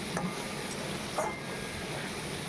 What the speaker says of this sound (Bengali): ভালোভাবে মশলাটাকে কষে নেবো সবজির সঙ্গে